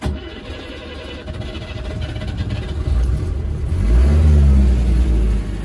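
A 1967 Citroën Tiburón engine cranks from its push-button starter and catches, settling into a rough running note before revving harder and louder toward the end, close by with no talk.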